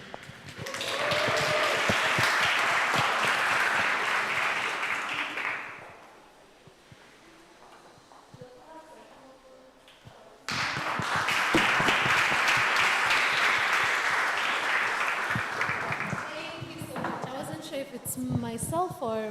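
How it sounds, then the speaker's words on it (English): Audience applause at a festival session: two long, loud bursts of dense clapping, separated by a quieter stretch where a voice speaks. "I also wanted you to clap some more for her"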